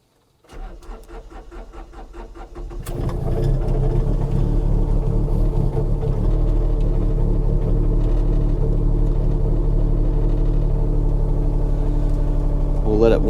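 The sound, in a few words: Takeuchi TB235-2 mini excavator engine running after ignition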